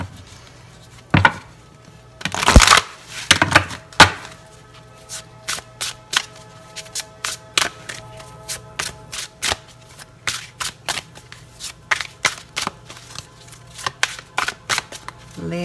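A deck of tarot cards is shuffled by hand for a reading. A few louder riffles open the clip, then a long run of crisp, rapid card slaps and flutters follows nearby.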